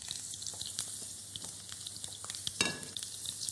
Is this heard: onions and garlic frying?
yes